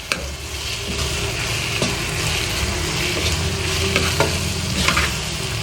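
Tomatoes stirred into a frying egg and potato omelette in a pan, steady sizzling with scraping spatula strokes and occasional clicks, close and continuous.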